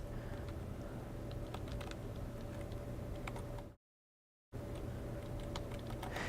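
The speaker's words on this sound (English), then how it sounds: "When you're typing on a keyboard that's not your keyboard, ugh, it's tough." Someone typing on a computer keyboard, a steady run of light clicking keystrokes with a brief total dropout partway through, no voices.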